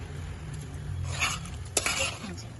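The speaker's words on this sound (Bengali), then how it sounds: "খুব হালকা হাতে আমাকে এই চালটাকে এর সাথে ভাজতে হবে।" Rice and prawns stirred and fried together in a pan for prawn pulao, giving soft scraping and clinking of a spoon against the pan over a low steady hiss, with a sharper clink near the end.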